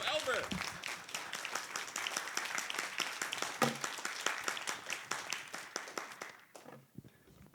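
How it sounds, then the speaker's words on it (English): An audience at a Taiwanese-German smart machinery forum breaks into sustained applause welcoming a speaker, with dense, loud clapping that continues for several seconds before tapering off abruptly near the end. "Ladies and gentlemen, please, our applause."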